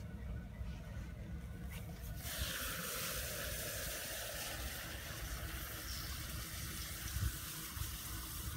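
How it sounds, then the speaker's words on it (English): Liquid nitrogen is poured onto honeybee brood comb for a hygienic-behaviour test. A soft gushing hiss begins after a couple of seconds and continues faintly and steadily. "now we'll pour the rest of the liquid nitrogen in there"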